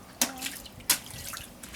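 Two distinct water drips or splashes about two-thirds of a second apart while washing white shoes, with a faint trickle of water in between, no voices.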